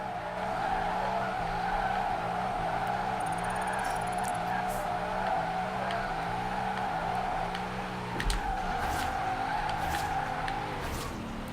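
A Nissan 240SX Formula Drift car in Forza holds a steady, loud engine drone near redline with tire squeal, running continuously throughout with a brief dip and bump in the middle.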